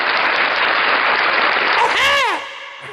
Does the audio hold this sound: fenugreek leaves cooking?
no